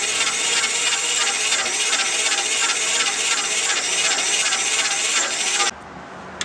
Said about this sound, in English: Here we're boring with the cobalt cutter first.